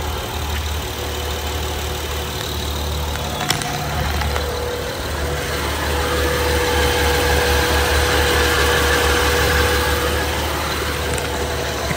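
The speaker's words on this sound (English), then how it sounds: "Let's go take a listen to the engine." A 2012 Honda Odyssey Touring's engine idles steadily throughout, a low even hum with a faint high whine and a brief clunk early on, no voices.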